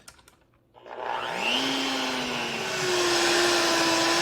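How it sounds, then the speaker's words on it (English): An electric mixer blends keto pistachio frosting until smooth, starting after a moment of quiet and then running loud and steady close by, with its whine rising slightly in pitch. "We're going to go ahead and mix this till it's smooth."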